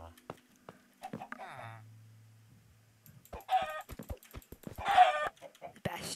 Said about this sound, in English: I now know not to play with tough chickens.